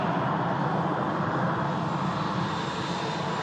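An EasyJet Airbus A320 arrives in from Santorini, its engines giving a steady, loud broadband roar that holds constant through the moment without any talk over it.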